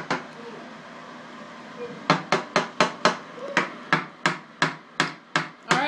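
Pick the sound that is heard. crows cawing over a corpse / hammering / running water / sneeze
hammering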